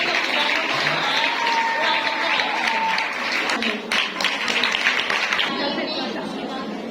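An audience at a parish International Women's Day gathering breaks into sustained applause, broad and fairly loud, mixed with crowd chatter and voices talking over it.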